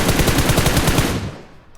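Rapid automatic M4 rifle fire in a battle royale shooter game, a loud, fast string of shots that cuts off and fades into a brief tail.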